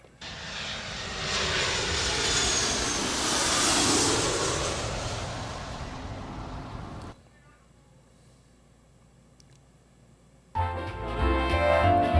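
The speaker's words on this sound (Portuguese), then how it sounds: "preparar a aeronave para decolagem" An airplane takes off as a sound effect, its engine roar swelling loud and broad for about seven seconds before cutting off abruptly, followed by a quiet gap and then a burst of louder noise near the end.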